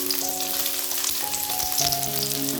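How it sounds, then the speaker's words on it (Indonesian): Shallots and garlic frying in cooking oil in a wok, a loud continuous crackling sizzle close by, with steady tones humming underneath and no voices. "Lalu kita aduk-aduk sampai tercium wanginya dari bawang merah dan bawang putih ini."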